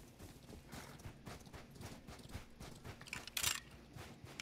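Horse hooves clip-clop in a steady walking rhythm in the Rust survival game, close and moderately loud, with a brief sharp hiss near the end.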